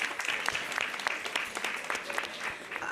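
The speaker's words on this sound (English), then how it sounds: "oh yes, it does deserve a round of applause" An audience at a women's success event claps in a brief burst of applause, fairly faint and even, with a voice faintly audible under it.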